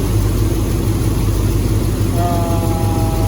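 A truck with a swapped LS V8 engine running steadily at idle, a loud continuous low rumble that stays even throughout with no revving.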